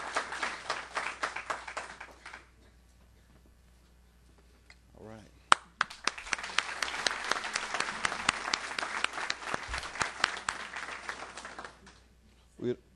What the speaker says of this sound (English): let's give a big round of applause to the 2009 Mississippi State Spelling Bee champion, Joseph Jackson.